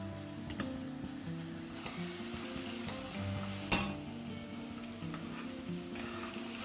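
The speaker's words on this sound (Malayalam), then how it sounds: "നമ്മുടെ വെളുത്തുള്ളിയൊക്കെ ഇങ്ങനെ നന്നായിട്ട് വഴറ്റണമെന്ന് പറയുന്നത്" Garlic sautéing in oil for a homemade mango pickle, a steady low sizzle with occasional stirring scrapes and one sharp clatter midway, heard alone.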